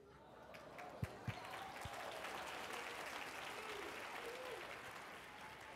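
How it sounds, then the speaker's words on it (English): Audience clapping at a school culture talk, a sustained, moderately distant wash of many hands with a few louder thumps near the start. "You're gonna have to clap louder than that."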